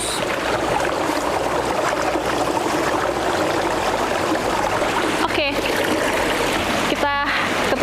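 Water rushes steadily at a mountain campground stream while cold water is scooped up to be boiled, with a couple of brief splashes and scooping sounds near the end and voices talking over it.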